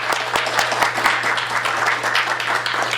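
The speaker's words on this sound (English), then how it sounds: "let's give him a very warm round of applause for Stephen GRECO" Warm, sustained applause from an audience at an author's book reading, thick and even from start to finish over a low steady hum.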